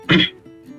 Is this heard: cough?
yes